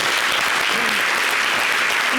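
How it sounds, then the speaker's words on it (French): Studio audience on a French talk show applauding steadily throughout, a dense close wash of clapping with faint voices mixed in. "Applaudis."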